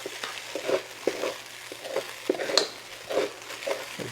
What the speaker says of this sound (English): Notice I'm stirring it like crazy here.